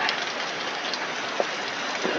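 Rain falling steadily on a hut in a rice field, a dense even hiss with occasional soft drops close by, no voices.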